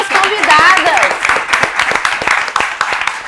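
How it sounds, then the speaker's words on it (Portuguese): An audience claps for guests at a live talk-show debate, bright clatter of many hands running through the whole stretch while a host keeps talking over it. "Vamos bater palmas para as convidadas."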